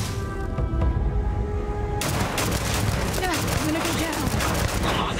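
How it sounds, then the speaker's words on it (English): Pistol gunfire in the Starfield video game: a dense burst of rapid shots with clattering impacts fills the last three seconds, following a short stretch of tonal game sounds, with voices faintly underneath. "This pistol is amazing."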